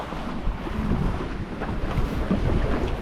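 Wind buffets the microphone aboard a sailboat on a close reach at about five or six knots between Brancaster and Blakeney, a steady, close rumbling rush with water noise beneath and no talk.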